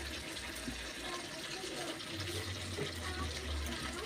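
Water pouring into a bowl of ground cumin, turmeric and chili powder to make a spice paste, a continuous close trickling wash with a faint low rumble and no speech.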